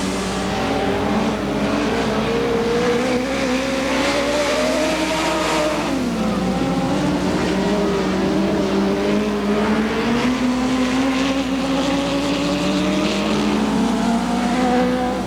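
IMCA sprint cars race on the dirt track at Ventura, California, engines howling continuously with pitch sweeping up and down as cars pass and accelerate, a dense, loud field of motors with no break.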